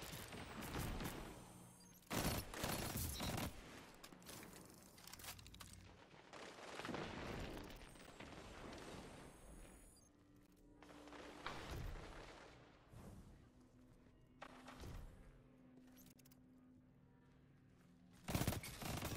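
Gunfire in a Destiny Iron Banner match sounds in loud bursts of rapid shots with heavy booming impacts, spaced out between quieter stretches over a low mechanical hum.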